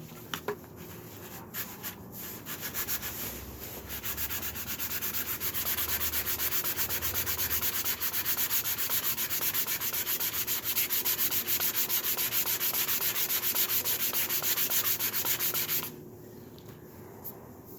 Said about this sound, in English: Sometimes you get little notches in the board here that you can try and sand out as much as you can.